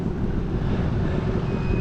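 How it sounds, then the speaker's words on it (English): Strong wind buffets the microphone at a lakeside island campsite, a constant low roaring rumble with no pause and no voices. "Super windy today."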